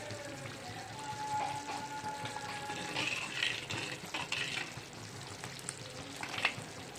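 Steady bubbling and sizzling of tamarind sauce simmering in a pan, with occasional faint clinks and stirring, continuous and fairly quiet.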